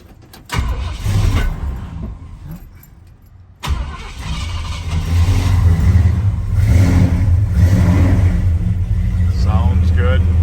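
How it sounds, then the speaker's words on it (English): A 1976 Ford F150 pickup with a custom steering wheel cranks and starts, then settles into a loud, close, steady idle with rising revs, while someone talks over the engine. "Start up our 76 F150 here."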